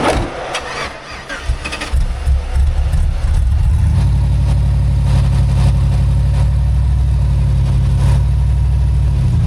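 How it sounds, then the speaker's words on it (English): A Jeep engine runs loud and close while the Jeep climbs an RTI ramp during an off-road articulation test. A rough start gives way to a steady, throbbing low rumble. "any more impressive because the Jeep's climbing. Jeep is pointed upward."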